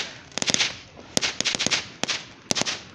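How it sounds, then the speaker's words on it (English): Sharp cracking bangs of Fourth of July fireworks going off in quick irregular bursts, some doubled, with brief quiet gaps between. "Some fireworks over there."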